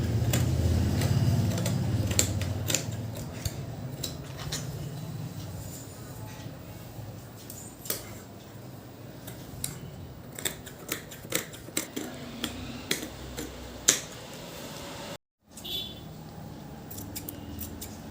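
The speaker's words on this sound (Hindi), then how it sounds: "कैंची में धार नहीं है यार" Blunt scissors snip through fabric while a garment is cut out at home, a series of short, close crisp clicks and snips in an uneven rhythm over a low background hum.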